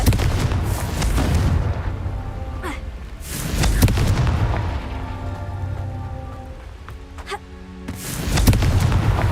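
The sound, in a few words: Confringo explosion spell cast in Hogwarts Legacy video game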